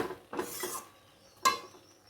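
Fried potatoes are stirred with spices in a pan for a dal recipe. A couple of scraping strokes come first, then one sharp metallic clink of the utensil against the pan, with no talk.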